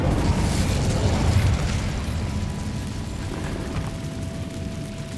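An Incendio fire spell cast in Hogwarts Legacy erupts as a loud, roaring burst of flame with a deep rumble, swelling over the first second and a half and then settling into a steady, lower hiss.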